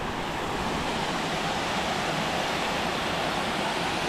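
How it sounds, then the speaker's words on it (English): Water from the Magdalena Mountains pours into a small sacred lagoon below the Lost City in Colombia, a steady, full rushing wash that fills the whole stretch with no voices. "a sacred lagoon with sacred water as it comes down from the mountain, the Magdalena Mountains"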